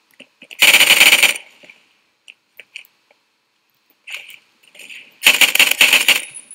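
Semi-automatic gunfire in the shooter game Phantom Forces: a loud, dense burst of shots early on, a few isolated single cracks in the middle, then another rapid, sustained burst near the end.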